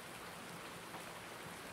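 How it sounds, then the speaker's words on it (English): Rainfall in Farming Simulator 19 on the Medicine Creek map, an unbroken hiss of drops on surfaces holding a constant level throughout, with no voices. "just wish his rain would stop"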